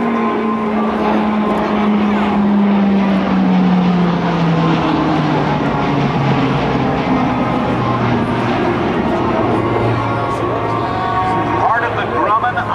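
An E-2 Hawkeye turboprop flies its airshow demonstration at NAS Oceana, a loud, sustained engine roar with a propeller drone sweeping downward in pitch as it passes, while a voice commentates over it.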